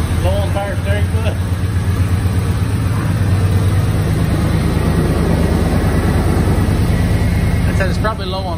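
A 1986 Ford F-150 that had sat for 15 years runs with a loud, steady low engine drone and rough idle throughout, with brief faint voices near the start and end.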